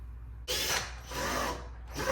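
A power drill spins a screw holding the front bumper to the fender on a Volkswagen Passat, with three short, close whirring bursts separated by brief pauses.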